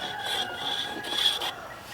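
A file or rasp scrapes burrs off the corner of a timber frame beam in a workshop, giving steady close rasping strokes at moderate loudness with no talk.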